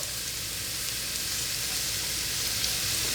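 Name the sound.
onions and garlic sizzling while sautéing in pan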